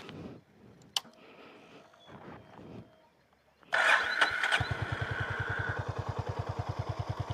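Honda H'ness CB350 motorcycle starting up with a few faint clicks first, then a sudden cranking burst. It settles into a loud, steady, evenly pulsing idle close by.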